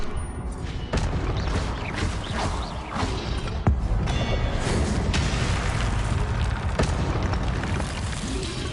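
A Confringo fire-blast spell going off in Hogwarts Legacy, a sustained roaring, rumbling blast with sharp cracks and bangs scattered through it, loud and continuous throughout.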